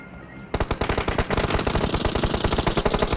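Rapid automatic gunfire in a video game shootout, a fast regular burst of loud shots starting abruptly and continuing without pause.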